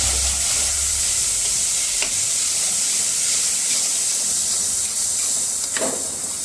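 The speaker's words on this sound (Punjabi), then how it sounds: "ਹੁਣ ਆਪਾਂ ਇਹਨੂੰ ਮਿਕਸ ਕਰ ਦੇਵਾਂਗੇ" Spiced soya chunks (nutri) sizzle and fry in a pan as Kashmiri red chilli, coriander powder and garam masala are stirred in, a steady close hiss with a few scraping stirs and no talking.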